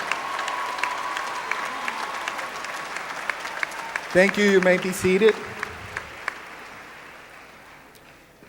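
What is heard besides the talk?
applause at a graduation ceremony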